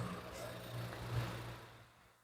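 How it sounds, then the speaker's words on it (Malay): A Proton Iriz car engine runs at idle during brake bleeding, a low steady mid-pitched rumble that holds evenly, then fades toward the end. "dalam keadaan enjin hidup"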